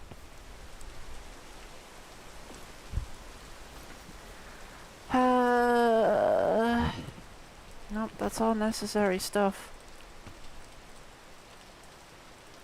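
Steady rain falls in the video game Peak, a soft, constant hiss running throughout at low level, while a person speaks in short bursts over it.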